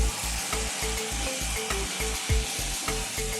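A pan of boiled brinjal with cashews and raisins, Kathiyawadi style, sizzles steadily while being stirred, with a regular rhythm of close scraping strokes and a brief louder knock partway through.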